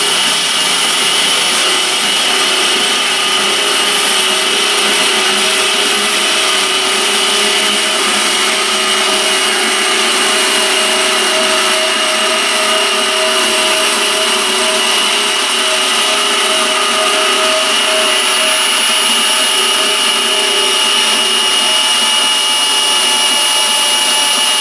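A Milwaukee M18 FUEL 2729-22 cordless deep cut band saw slices through small steel angle iron, a steady loud whining buzz with a metallic ring that runs unbroken and close for the whole stretch.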